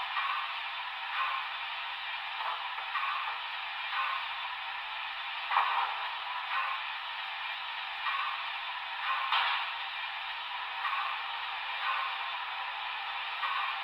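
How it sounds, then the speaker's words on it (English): A model locomotive sound effect of a Big Boy tender filling with water: a faint, steady hiss of rushing water that stays even for about fourteen seconds, with small fluctuations and no voices. "that's the sound of the tender being filled with water"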